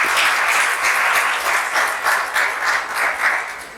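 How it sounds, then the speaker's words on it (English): A large indoor audience gives a loud round of applause celebrating India's Chandrayaan-3 moon landing, dense clapping that swells and dips slightly before beginning to fade. "So a huge round of applause for that."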